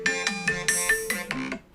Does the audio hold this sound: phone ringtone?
yes